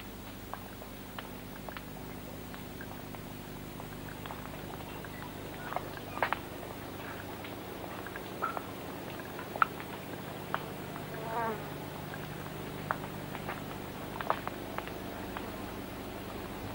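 Snapping shrimp in a New Zealand mangrove forest at low tide crackle with scattered sharp clicks and pops over a steady hiss, irregular and fairly faint, with a few louder snaps standing out.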